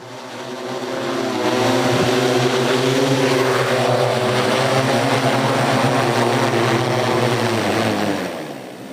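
An agricultural spraying drone flies close by, its propellers producing a loud, steady buzzing whine with strong harmonic tones that swells in, holds for several seconds, and fades slightly at the end.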